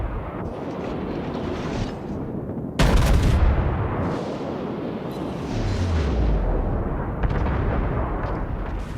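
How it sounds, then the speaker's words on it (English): Battleship guns firing in a naval warfare video game, heavy booming blasts over a constant rumbling background, one sharp loud shot standing out and others rolling in, with no talking. "even though these are lower caliber guns by battleship standards, they certainly still do have that penetration"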